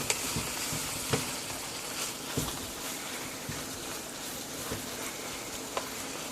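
Ground pork and basil sizzle steadily in a hot pan while being stirred, a constant crackling hiss broken by occasional scraping knocks of the spoon against the pan.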